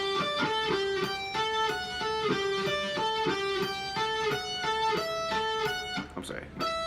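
Electric guitar slowly picks the intro riff, steady evenly spaced single notes ringing out one after another, close and clear, ending with a brief scrape.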